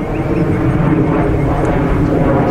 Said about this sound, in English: Aeroplane on cue.